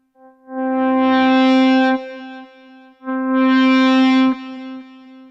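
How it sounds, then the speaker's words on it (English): Two sustained electric guitar notes, each faded in with a volume pedal, swell smoothly from silence to full volume with a gritty distorted edge before dropping away. "we get a really nice kind of volume swell."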